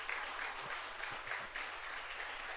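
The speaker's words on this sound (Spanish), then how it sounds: "Un fuerte aplauso para nuestros maestros y maestras de escuela bíblica." A church congregation applauds after the Bible school teachers are called up, a steady, fairly quiet wash of clapping lasting a couple of seconds with no talk over it.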